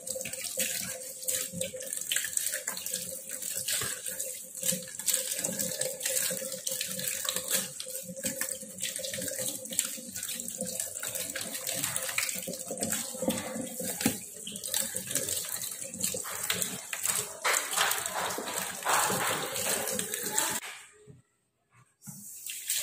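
Boiled pork for sinigang is rinsed under a running kitchen tap, a steady loud gush of water splashing into the sink for about twenty seconds before cutting off briefly near the end.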